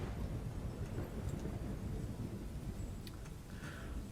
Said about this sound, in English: Is that thunderstorm sound from the demon?